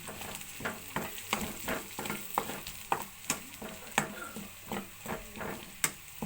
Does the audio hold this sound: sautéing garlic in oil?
yes